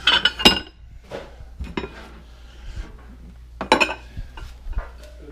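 Big cooking pots and glass lids being handled while sorting a load of goods for a flea market, with sharp scattered clinks and clanks, a few quick bursts separated by quieter shuffling.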